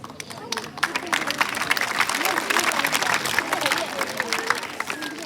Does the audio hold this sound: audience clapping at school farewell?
yes